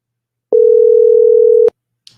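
A telephone line gives a single steady engaged tone lasting just over a second, loud and clean, followed by a short click.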